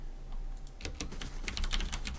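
Computer keyboard keys pressed in quick irregular bursts of close, crisp clicks, starting sparse and growing denser, with no talking.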